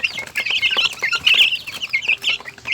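Chickens and chicks in a small backyard poultry yard, including Sebright and Australorp birds, cluck and peep in a busy overlapping chorus, close and lively with quick repeated calls and no talk.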